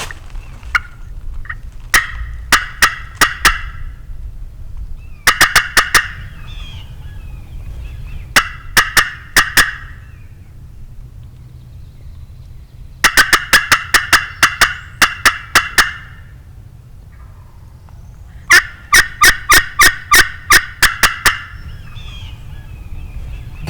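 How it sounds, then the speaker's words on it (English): A wild turkey gobbles repeatedly on public hunting land in Missouri, with several bursts of rattling gobbles at intervals, loud and fairly close over a quiet outdoor background. "Gobbling much when I was walking around and doing all that?"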